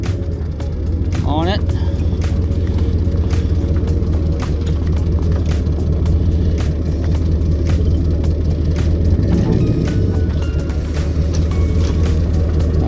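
A car pulling its tow vehicle on a Blue Ox tow bar drives steadily, with a continuous loud low engine and road rumble throughout and brief voices in the cab.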